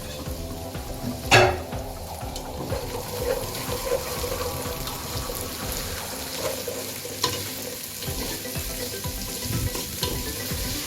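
Chicken curry sizzles steadily in a hot pan while a utensil scrapes and stirs, with a sharp clink near the start.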